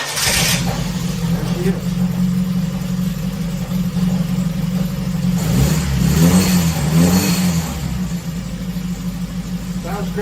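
An old car engine cranks over on the starter and catches after an exhaust manifold leak repair, settling into a steady idle before revving up and down in the middle, with a slight muffler rattle. A voice speaks briefly over the running engine.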